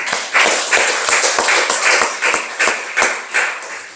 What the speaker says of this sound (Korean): 박수로 영광을 드리겠습니다.